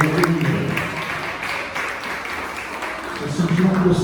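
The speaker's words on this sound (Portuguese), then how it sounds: "Pode exaltar Jesus com palmas de glória." A church congregation at a women's worship service in Maringá claps in praise of Jesus, a steady mass of hand claps sounding throughout with voices talking and calling out over it.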